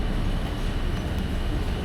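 Steady, dense rumble of a Mataram economy-class passenger train, a continuous loud roar with no breaks and no voices.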